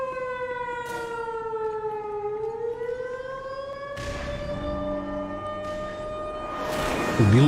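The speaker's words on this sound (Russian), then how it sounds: "Сирену услышали." A wailing civil-defense siren sounds in the Black Mesa video game, its pitch sliding down and then rising slowly across the clip, loud and steady, with a harsher burst of noise near the end.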